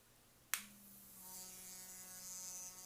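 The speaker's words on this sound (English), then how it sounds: "this is a vibratory toothbrush, and so this vibration helps you so you don't push hard on your teeth" A cheap vibrating electric toothbrush switches on with a sharp click, then runs with a steady, close buzzing hum that holds for a few seconds, with no talk over it.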